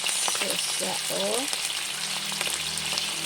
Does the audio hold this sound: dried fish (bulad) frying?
yes